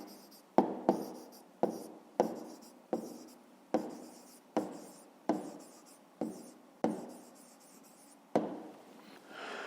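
Writing down the answer to a fifth-grade math exercise: a dozen crisp, evenly spaced pen or chalk strokes, each a sharp tap trailing into a short scratch, close up and without any voices.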